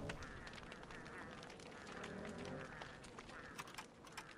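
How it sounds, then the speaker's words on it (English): Penguins quack in the video game Don't Starve Shipwrecked during winter, faint duck-like calls repeating under a person talking, with quiet in-game background noise. "Yeah, I know. They're penguins, they're not ducks."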